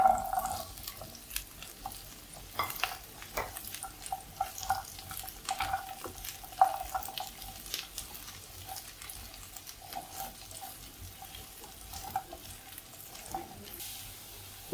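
Carrots with curry leaves and salt are stirred in a hot pan, a quiet sizzle broken by irregular scraping and clinking strokes of the spoon.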